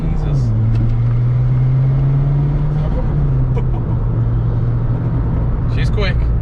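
Turbocharged Ford Fiesta ST150 accelerating hard with wheelspin, a loud, steady engine drone that holds and rises slightly, with people talking over it throughout.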